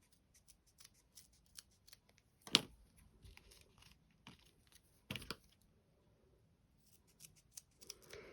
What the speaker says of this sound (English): let's just trim this a little bit more